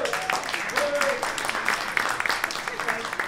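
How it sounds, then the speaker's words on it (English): Audience at a Manhattan investment forum and dinner gives a round of applause, continuous scattered clapping at moderate volume with faint voices mixed in. "a big round of applause"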